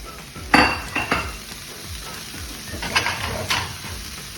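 Spiced pilaf-style rice with vegetables stirred in a pan, spoon scrapes and clanks striking in short bursts over a low continuous sizzle, close and fairly loud.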